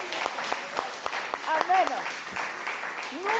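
A church congregation claps and cheers for mothers at a Mother's Day service. Scattered, uneven hand claps mix with raised voices and calls, moderately close.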